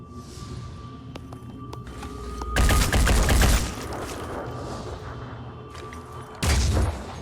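Sniper rifle fire in the turn-based video game Phoenix Point comes as two loud, heavy bursts of gunfire, each lasting about a second. Quieter game ambience and faint mechanical sounds fill the spaces between the shots.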